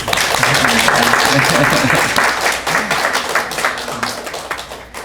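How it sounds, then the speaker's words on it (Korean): A church congregation at a Sunday service applauds in welcome, dense clapping from many hands that fades out gradually, with a voice speaking over the start. "여기 환영하면서 다 같이 박수를"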